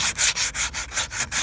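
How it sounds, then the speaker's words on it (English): Sandpaper rubbed by hand on a wooden exterior window frame being prepped for paint, in about eight brisk back-and-forth strokes with a steady scraping rhythm, close and loud with no talking. "And then I'll just take a little piece of sandpaper I've got and hit it with that."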